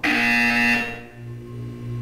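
A loud, steady electronic buzzer tone from the Portal 2 test chambers sounds at full strength for under a second, then drops to a lower, sustained hum that lingers underneath.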